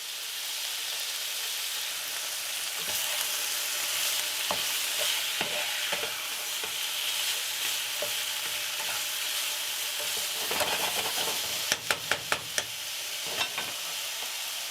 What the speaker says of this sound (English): We're going to stir it and let it cook through.